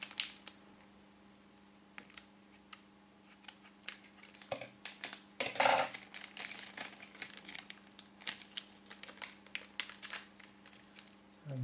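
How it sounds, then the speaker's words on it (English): A packet is cut open with scissors, quiet close snips and crinkling plastic scattered over several seconds, with a louder burst of rustling midway, over a low background hum. "Okay guys, got scissors. Open the first packet."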